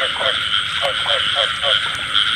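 Frogs croak repeatedly in a rice field at night during frog hunting, short clustered calls over a constant loud insect drone, with a water pump running nearby.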